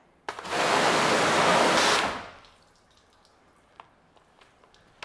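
A water hose sprays a car from the top down, a loud, steady hiss of water that lasts about two seconds and then cuts off, leaving soft drips afterward.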